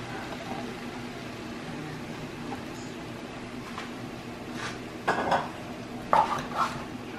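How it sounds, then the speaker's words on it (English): A spoon stirs pasta in four cheese sauce inside a pot, giving a steady low scraping wash with a few light metallic clinks toward the end, fairly close and with no talking. "Give that a little mix."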